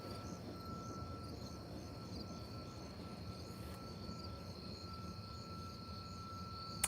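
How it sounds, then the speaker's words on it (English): A low, steady rumble of a slow train rolling past in the distance, with faint high-pitched tones hanging above it. "Here comes a train."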